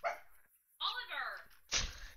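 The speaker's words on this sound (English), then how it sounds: "He's probably barking at nothing again." Pet dog in a modded Minecraft stream, a few close yips and barks with whining tones, heard under speech.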